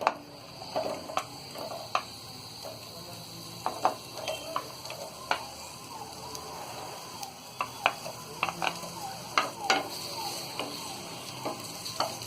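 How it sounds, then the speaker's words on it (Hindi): Chopped onions fry in a couple of tablespoons of hot oil, giving a steady close sizzle broken by frequent sharp clicks and scrapes of a spoon stirring against the pan. "प्याज को हम हल्का सा नरम होने तक फ्राई करेंगे।"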